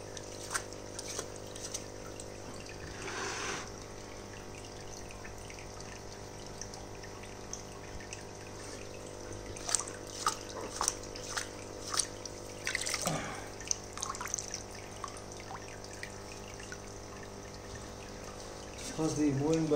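Rinsing a saltwater aquarium's intake sponge in tank water: steady running and splashing water with scattered drips and sloshes, brief louder splashes near the middle and end, under a constant low hum.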